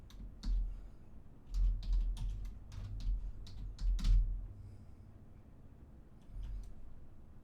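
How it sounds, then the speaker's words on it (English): Quick bursts of keystrokes on a computer keyboard, clattering in uneven clusters with short pauses between them, close and moderately loud against a faint background hum. "I'm like typing all that for nothing"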